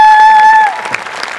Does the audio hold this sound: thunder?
no